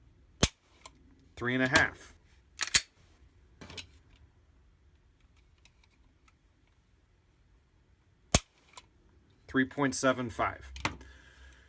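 A S&W M&P9L Pro pistol is dry-fired, giving a few sharp, isolated trigger clicks spaced seconds apart, close and crisp, while someone talks between them.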